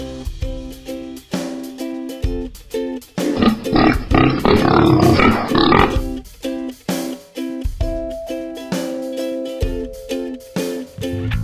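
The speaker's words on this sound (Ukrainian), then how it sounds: "Це порося." A pig grunts and squeals in a rough, noisy burst lasting a few seconds, set against steady background music.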